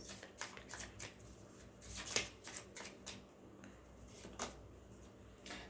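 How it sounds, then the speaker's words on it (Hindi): Tarot cards shuffle close by in a quiet room, a soft run of riffling and flicking taps that repeat irregularly for several seconds. "चलिए शफल कर लेते हैं पहले अच्छे से"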